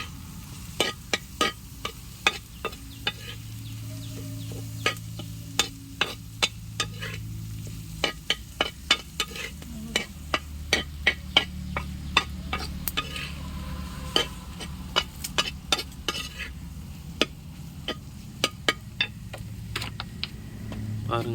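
Prawns and spices fry on a tawa in an outdoor village kitchen. A spatula scrapes and taps at an irregular, rapid pace over a soft, steady sizzle, fairly quiet throughout.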